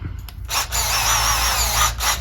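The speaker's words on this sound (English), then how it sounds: "you want to get your drill out" A power drill whines loudly as it bores into wood, a short continuous burst after a few faint clicks.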